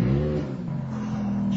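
A Ferrari F430 with a 4.3-litre V8 revs close by, first a rising roar and then a deep, steady drone held for the rest of the burst.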